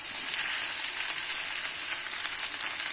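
Finely chopped potatoes and green chillies frying in a pan, a steady close hiss of bright sizzling oil that stays even and continuous throughout, with no talking.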